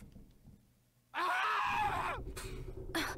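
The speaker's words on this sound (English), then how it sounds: "Good scream." A harsh falling scream from Bloodstained: Ritual of the Night bursts in after a quiet moment and lasts about a second, followed by short bursts of game noise.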